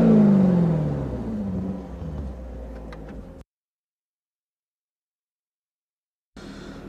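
A Corvette Z06 engine revs and then settles as its pitch falls away, loud and close, before cutting to silence and briefly returning at the end.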